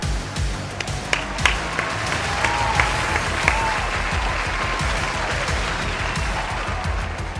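A crowd at the Rocket League RLCS London Major applauds steadily, with scattered sharp claps and whistles over a continuous wash of clapping and cheering throughout.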